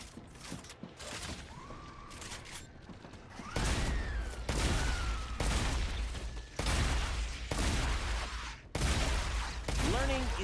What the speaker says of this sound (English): Time to use shotgun a little bit